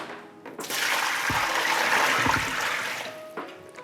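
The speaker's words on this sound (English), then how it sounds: "Let's empty it into the sink." Water from a nano aquarium's jar poured out into a sink, a steady rushing splash lasting about two and a half seconds with a couple of low thuds, then trailing off.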